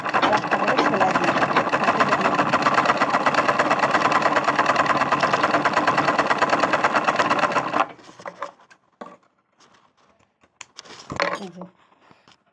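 A sewing machine runs steadily for about eight seconds, stitching across the top of a bag handle, then stops, leaving faint handling and rustling sounds.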